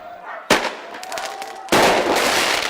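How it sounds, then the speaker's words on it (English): Firecrackers go off in two sharp bursts during a night street riot in Tottenham, London, each followed by a loud rolling crackle and roar that keeps going. "Bricks, firecrackers and flames filled the night air."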